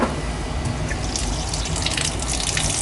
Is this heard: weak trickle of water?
yes